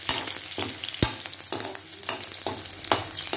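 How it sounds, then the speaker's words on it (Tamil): Onions frying in oil in a pan for a cabbage and potato dish, a dense crackling sizzle with stirring scrapes and small pops, close and steady without talking. "இதில் வந்து நம்ம வந்து சத்தம் கேட்குது, ஆனியன் போடுறோம்."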